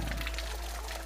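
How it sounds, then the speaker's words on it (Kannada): A small waterfall near the Naviluswamy temple in Sandur trickles gently, a soft, continuous pouring wash of falling water with no break. "ಈಗ ಸಣ್ಣಗೆ ನೀರು ಬೀಳ್ತಿದೆ."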